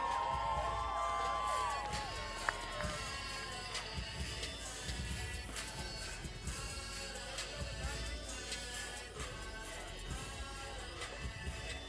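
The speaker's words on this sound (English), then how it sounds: "One more time, a big round of applause." An X Games Aspen crowd cheers, whoops and applauds for a silver medalist, a steady wash of distant shouts and clapping that continues throughout with no voices on top.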